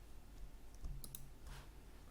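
A computer mouse clicks while files are selected for import, a couple of quick, light clicks close together followed by another faint click over a low, quiet room hum.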